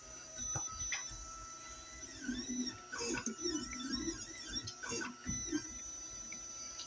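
A 3D printer running a phone mount print whirs and buzzes faintly in the background, with moving stepper-motor tones rising and falling irregularly and no voices.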